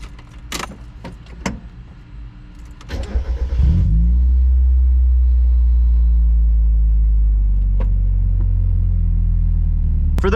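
A Mazda NA8 MX-5 Miata at night: keys jangle and clicks come first, then the engine cranks and starts, settling into a loud, steady low idle rumble that continues close by with no talk.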